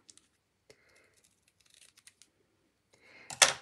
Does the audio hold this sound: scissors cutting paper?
yes